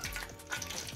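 Oil heating in a pan for frying cabbage fritters gives a faint, close, steady low sizzle with light crackles, no voices.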